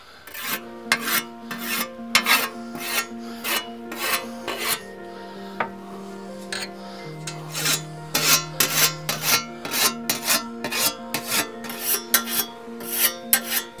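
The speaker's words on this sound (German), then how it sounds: "Schön ziehen am Stein und immer davon wegziehen, dass das Sägesse schön scharf wird." A whetstone sharpens a scythe blade by hand in repeated rasping strokes, sometimes in quick pairs, close and clear, with a steady hum beneath.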